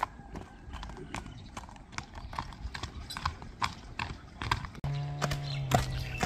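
Horse hooves clip-clop in a steady, close rhythm, with a brief higher tonal sound near the end.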